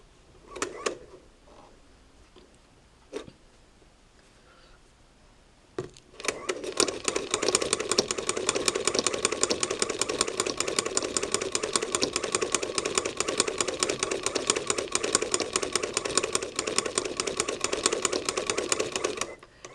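A Singer Model 20 sewing machine stitches fabric in a fast, steady mechanical rattle of rapid needle strokes, close up and loud. It runs continuously for about thirteen seconds after a quieter start with light handling noises.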